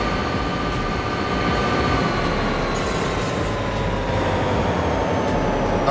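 Train rolling along in the DayZ video game, a steady, continuous rumble with a sustained rail hum and faint tonal whine, loud and close throughout with no talk.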